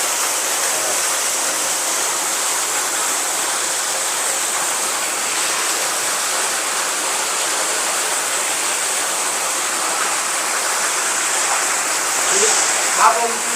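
Underground river water in Cavinti cave rushes in a steady, unbroken hiss with no clear pauses, filling the space evenly throughout.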